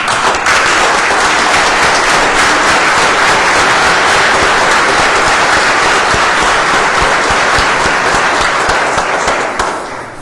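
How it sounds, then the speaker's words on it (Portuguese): Standing audience at a solemn session marking the Protestant Reformation anniversary applauds in salute of the Brazilian national flag, loud, dense and continuous clapping filling the whole stretch and easing slightly at the very end. "Solicito a todos que em pé saudemos o pavilhão nacional com uma salva de palmas."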